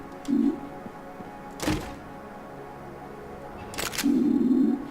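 A reward chest opens in the game Enter the Gungeon, giving two sharp thunks with low resonant swells, one early and one near the end, over a steady game background hum.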